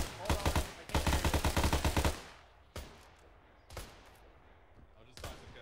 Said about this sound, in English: Guns up, keep shooting